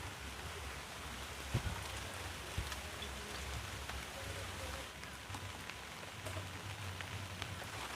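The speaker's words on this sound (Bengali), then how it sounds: "এদিকে কিন্তু বৃষ্টিটাও নেমে এসছে" Steady rain falls in a soft, even wash of patter with a few louder drops, faint and continuous throughout.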